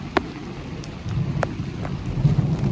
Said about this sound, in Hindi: तो आज बारिश बहुत आई है